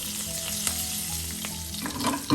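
Red chillies and curry leaves sauté in hot oil with a steady, close crackling sizzle, plus a couple of faint clicks from stirring, and no voices.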